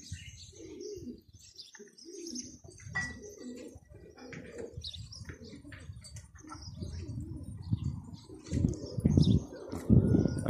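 Pigeons cooing and chirping outdoors at a bird-trapping spot, with occasional wing flaps, steady and moderately near, growing louder and busier toward the end.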